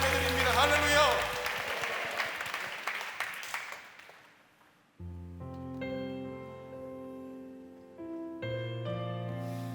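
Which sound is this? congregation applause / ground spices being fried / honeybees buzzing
congregation applause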